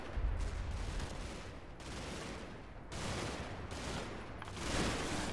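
Gunfire in the Combat Mission: Battle for Normandy war game, a continuous rolling fusillade of overlapping shots and distant bursts that swells and fades in waves, with no voice over it.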